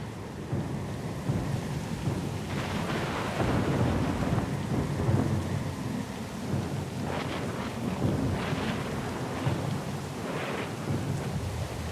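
Thunderstorm at sea in the Pillars of Eternity II: Deadfire video game, steady heavy rain with rolling rumbles of thunder building and fading over a dense, loud background and no voices.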